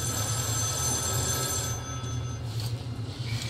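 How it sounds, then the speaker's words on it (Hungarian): An old-style telephone bell rings continuously in Metro Last Light, a steady metallic trill over a low rumbling background hum. "Csörög a telefon"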